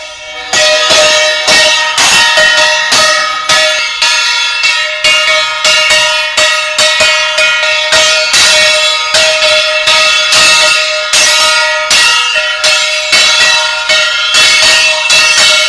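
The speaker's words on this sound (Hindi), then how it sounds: "लोगों ने ताली, घंटी, शंख आदि बजाना शुरू कर दिया।" Bells clang in a dense, loud, continuous ringing from a crowd banging plates and clapping during an evening tribute in Pakur, Jharkhand, rapid irregular strikes overlapping for the whole stretch without voices.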